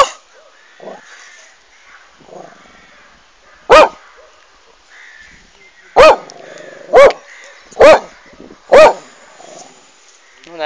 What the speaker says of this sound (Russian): Собака гавкает. Обгавкал уже весь народ.